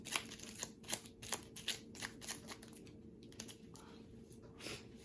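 A deck of cards shuffled during a tabletop board game, a quiet close run of crisp riffling flicks and taps with no talk.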